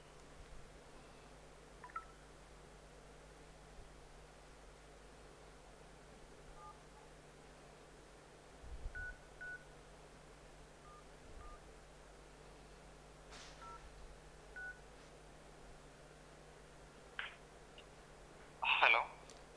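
Telephone keypad dialing tones sound as a few short, faint beeps spaced several seconds apart over a quiet background hiss, the last one slightly louder.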